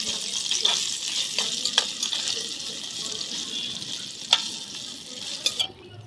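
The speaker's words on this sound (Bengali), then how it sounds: "তো দেখো ফুলকপিটা দেখো ভাজা হচ্ছে" Cauliflower frying in a pan on a low gas flame, a steady close sizzle with occasional sharp crackles and spatters, no talking.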